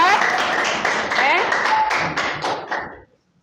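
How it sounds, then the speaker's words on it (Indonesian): A classroom of students claps together for a few seconds in a dense, steady patter that fades out at the end, with voices talking and calling over it. "Ibu ingin apresiasi kalian dulu dengan tepuk tangan yang sangat meriah untuk kalian semua"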